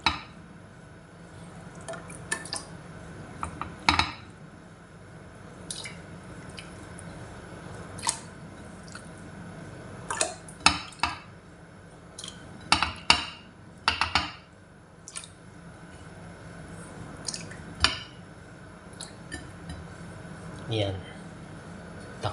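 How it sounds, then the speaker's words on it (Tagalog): Beef goes into a pot for nilagang baka, boiled beef soup with corn and toasted garlic, heard as scattered clinks and knocks of metal and utensils, with faint liquid sounds between them. "Ilalagay ko na po yung baka."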